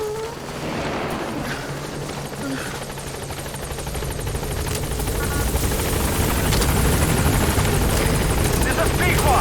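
A helicopter rotor beats steadily as the aircraft arrives at a landing zone in the Metal Gear Solid V game, growing slightly louder and nearer over the clip, with radio-style voices faintly present underneath.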